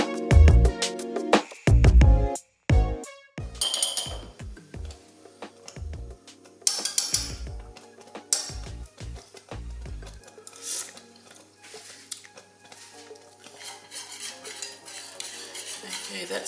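Metal spoon clinking and scraping against a bowl while sugar is stirred into an apple crumble filling, rapid irregular taps and scrapes up close, tapering into quieter scraping.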